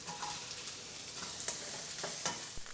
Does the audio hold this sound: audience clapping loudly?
no